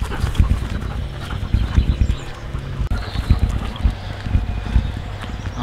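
Two dogs panting and moving close by on a rural walk, with rough bursts of breath and scuffling over a windy outdoor background.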